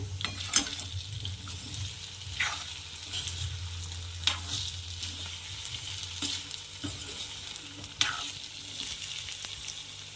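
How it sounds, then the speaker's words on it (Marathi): Green brinjal cooks in a pan for a spicy green chilli Maharashtrian dish, with a steady close sizzle and frying crackle and a spoon scraping and stirring every couple of seconds. No one speaks. "सुकं सुकंच बनवायचं आणखी दोन मिनटं झाले तसं मध्ये मध्ये हलवत राहायचं"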